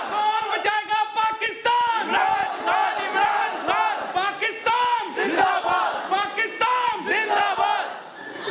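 A large crowd at a political rally chants slogans in loud, rhythmic unison, the voices rising and falling in repeated shouted phrases with sharp accented beats throughout.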